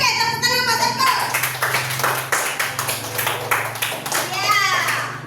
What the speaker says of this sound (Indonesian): Oke, tepuk tangan Mas Eko